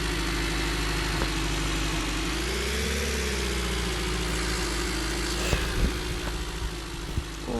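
A pickup truck engine idles steadily up close, with a low rumbling drone that swells briefly, then settles, punctuated by a few faint clicks.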